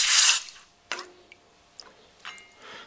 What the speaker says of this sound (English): We just need to quench that in water, in this water container here.